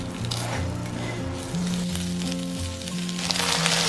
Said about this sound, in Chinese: 下锅喷一点油，加入洋葱给它炒一下。